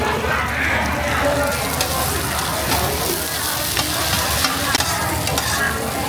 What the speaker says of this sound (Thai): อันนี้หอยทอดนะคะกับพวกออส่วนนะคะ